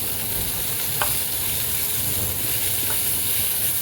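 Small onions with ginger frying in a pan, giving a steady close hiss and sizzle throughout with faint scraping of stirring and no talking.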